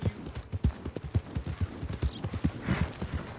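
Horse hooves clip-clop in a steady, fairly close rhythm in Red Dead Redemption 2, a run of evenly spaced hoofbeats with a faint whinny-like sound near the end.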